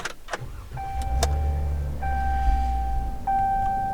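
A car drives along a wet road on a bird-season outing, with a steady low engine and road rumble under a few thin, sustained whining tones and some brief knocks near the start.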